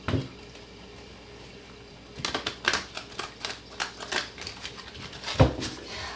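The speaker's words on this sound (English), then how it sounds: "Last shuffle." After a quiet couple of seconds, a deck of tarot cards is shuffled up close, a quick series of sharp riffling snaps and taps ending with a louder thump.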